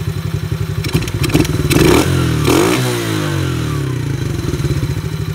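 Cheap Chinese four-wheeler ATV engine revving near at hand, its throttle rising and falling through a couple of swells with clattering thumps from the small motor, no voices over it.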